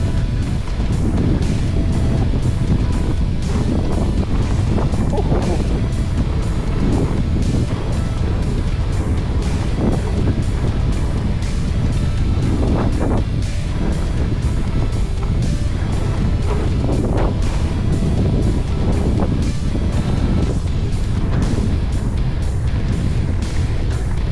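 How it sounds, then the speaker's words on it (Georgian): Strong wind roars steadily across the microphone while riding an electric bicycle outdoors, a loud continuous buffeting rumble with gusty surges and no clear talk. "აუ საშინელი ქარია."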